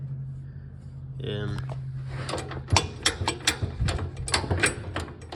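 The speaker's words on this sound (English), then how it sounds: "See, now it's easier to shift the gears." Gear mechanism on a 110 being shifted, giving a run of sharp mechanical clicks and clunks after a steady low hum, close and fairly loud.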